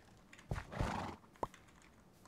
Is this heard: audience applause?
no